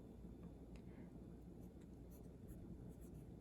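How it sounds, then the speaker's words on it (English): A pen writing by hand on paper, faint scratchy strokes and small taps scattered over a steady low background hum, close and quiet with no speech. "This time I also write down"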